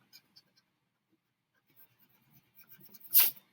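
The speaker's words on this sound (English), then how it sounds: "I'm going to actually go and erase that line." Pencil line being erased on paper during a pumpkin pie drawing, a short, bright scrubbing burst near the end after faint scattered rubbing sounds, close and fairly quiet.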